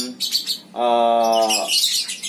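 A songbird kept as a caged pet chirps close and clear, first with a few quick tweets, then a sustained bright trilling phrase, then more scattered high chirps, alone without talk.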